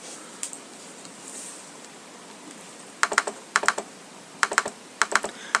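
Rapid clicking on a computer while a browser game loads, arriving in tight clusters of quick, crisp clicks after a quiet stretch, close and fairly loud.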